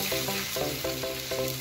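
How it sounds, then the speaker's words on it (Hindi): Fanta soft drink boiling in a cooking pan before Maggi noodles are added, a steady close bubbling and sizzling fizz with rhythmic popping that continues without pause. "हमारी फेंटा यहाँ पे बॉईल हो चुकी है"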